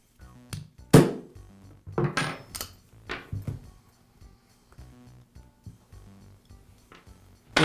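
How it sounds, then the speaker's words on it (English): A metal punch hammered to drive a post out of the button on a Makita reciprocating saw during repair, producing a series of sharp, close metallic taps and clinks at irregular intervals, loudest early on, with no talk. "I'll use a punch to remove the post from the button."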